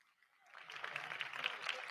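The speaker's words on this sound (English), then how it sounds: "Please give them a great round of applause." Applause from a pageant audience at the Miss Eco International 2025 final show, swelling in from silence to a steady, fairly faint clapping crowd.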